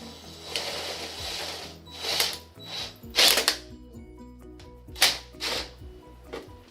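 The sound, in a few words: reciprocating vibrating saw making holes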